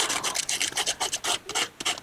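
Sandpaper roughing up a LiFePO4 battery terminal, a quick series of short, close scratchy rasping strokes in an uneven rhythm.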